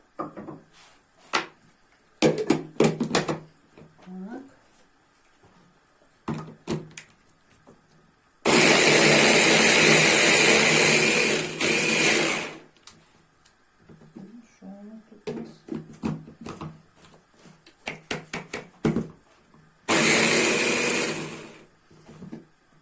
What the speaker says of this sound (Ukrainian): Мені треба зблендувати цибулю і чесник.